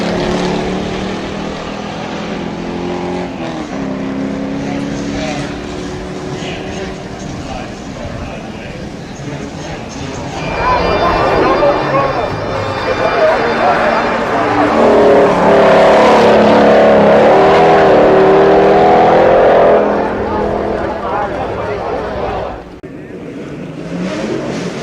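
A Super Touring O Class race car at the Giants' Despair hill climb roars past, its engine revving and building to a loud, sustained pass before fading; a commentator's voice runs over it.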